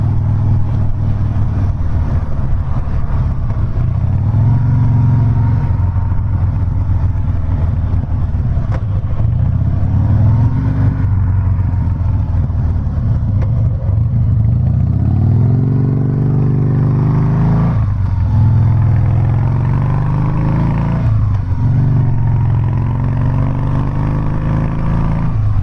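A Harley-Davidson Softail motorcycle rumbles steadily while being ridden, its engine pitch rising and falling smoothly through gear and speed changes, with constant wind noise and no voices.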